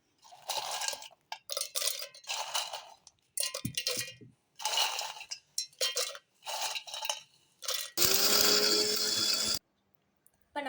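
A kitchen mixer grinder pulverizes broken Oreo biscuits in short loud pulses that stop and start several times, ending in one longer continuous whirring grind.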